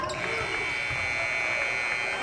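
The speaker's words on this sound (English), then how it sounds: "So White converts just before the shot clock buzzer" A high school boys varsity basketball game in a gym, with a sustained shot clock buzzer tone sounding loud and continuous through crowd noise and voices.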